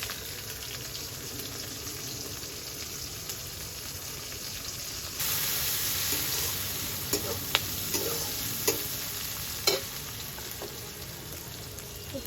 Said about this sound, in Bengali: পেঁয়াজ রসুনটা একটু ভাজা হয়ে গিয়েছে